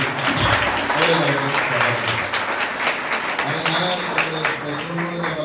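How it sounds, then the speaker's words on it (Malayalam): An audience claps together at the opening of a new school building, with sustained dense applause from a crowd that carries on steadily for several seconds while a voice speaks over it through a loudspeaker. "നല്ലൊരു കൈയടിയോടുകൂടി"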